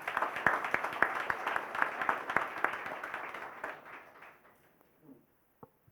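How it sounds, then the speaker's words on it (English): An audience at a maritime transport safety agreement signing in Nigeria applauds, brisk steady clapping that gradually fades out, leaving a couple of isolated late claps in near quiet. "Please, can you give him a round of applause?"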